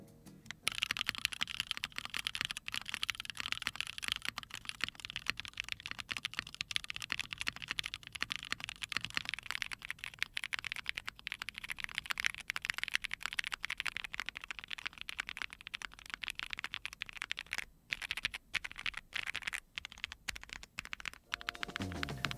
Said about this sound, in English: I'll go and play a sound test for them stock, and then lubed as well